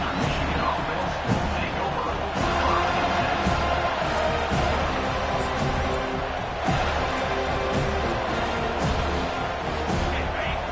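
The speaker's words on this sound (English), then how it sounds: "listen to this crowd roar" Roaring stadium crowd noise in a college football video game, Eastern Michigan at FSU, a dense steady wall of cheering held at constant loudness with occasional louder surges, heard under continuous game commentary.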